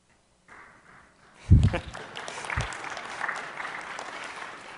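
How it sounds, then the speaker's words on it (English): Applause from a conference audience at a talk on tamper evident devices, beginning with scattered claps and swelling into a moderate spread of clapping that carries on to the end, with a few louder thumps early on. "I like that it takes one person clapping to motivate the rest of you"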